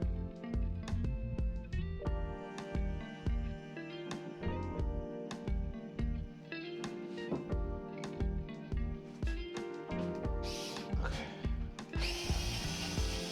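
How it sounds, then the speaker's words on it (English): A light electric screwdriver backing screws out of a wooden wall cabinet during its removal, with repeated whirring bursts separated by short pauses and a few clunks of the wood. "I really like this electric screwdriver because it's light and it fits easily in my hand."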